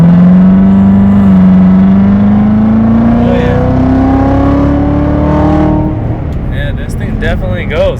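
A 2016 Corvette Z06 engine revs up with a rising, steady drone, then rough mechanical noise and whirring as it pulls away sideways, with excited voices over it.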